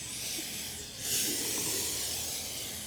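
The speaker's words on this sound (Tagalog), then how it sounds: "So, i-spray lang natin to." Paint remover sprayed onto damaged front mag wheels gives a soft, steady hiss that swells briefly partway through, quiet and with no one talking.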